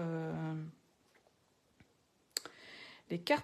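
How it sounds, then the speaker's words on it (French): Paper card slides being pushed shut on a handmade sliding scrapbook card, a few quick light clicks and scrapes up close, with a voice talking just before. "on revient glisser les glissières comme ceci pour refermer, pour maintenir en fait les cartes"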